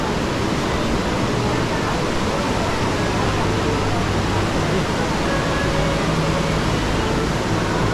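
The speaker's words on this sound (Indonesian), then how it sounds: "di sini langsung ketemu air terjun Lembah Anai." Lembah Anai waterfall, fed by clear water from Mount Singgalang, roars as a steady, loud, dense rush of falling water that fills the whole scene without letup.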